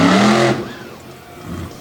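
Race truck engine roaring loudly on a clay dirt oval at a State Line all-star homecoming night, a strong burst for half a second that then drops to a lower rumble and swells again near the end.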